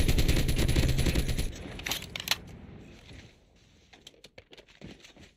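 A PPSh-41 submachine gun in a shooter game fires a dense, loud, continuous burst for over a second, then fades into scattered faint clicks and small mechanical ticks.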